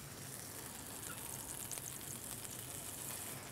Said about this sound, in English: you can really hear it sizzling